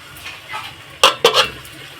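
Okra pieces frying with spices in a pan are stirred, giving two loud, close scraping strokes over a soft background sizzle.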